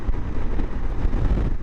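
Steady buffeting wind rushes and roars across the microphone, low and rumbling, while riding a motorcycle at speed across moorland.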